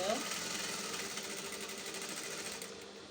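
Sewing machine stitching the side pocket of a pair of trousers, a fast steady whir of needle strokes heard close but at low level for the whole moment.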